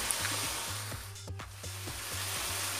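Tomatoes sautéing in a pan for dried-fish thokku, a soft continuous sizzle with faint crackles and a few stirring scrapes, fairly quiet and close, no voices.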